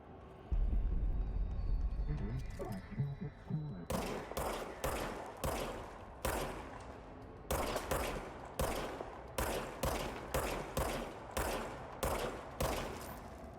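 Service weapon pistol fired at targets in the video game Control, a steady series of about a dozen sharp, evenly spaced shots after a brief quiet lead-in.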